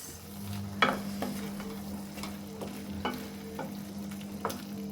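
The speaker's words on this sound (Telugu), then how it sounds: "సో క్యాష్యూస్ యాడ్ చేసేసి మిక్స్." Fried cashews being stirred into a red chilli chicken gravy in a pan, a low steady sizzle with a spoon scraping in a slow irregular rhythm, close and without talk.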